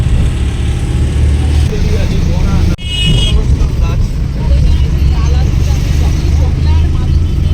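A car on a road rumbles with loud low engine and road noise and one brief dropout, while people talk over it throughout.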